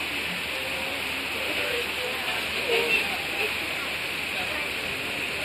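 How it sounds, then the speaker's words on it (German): Rain falls steadily at the Kriebstein reservoir in Germany, a constant broadband hiss that stays even throughout with a few faint, brief sounds on top. "Und es regnet."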